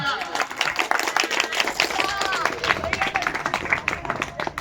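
A crowd claps at a kabaddi (hadudu) trophy ceremony on an open village field. The applause is steady, dense and sustained, with a murmuring hubbub of voices mixed into it.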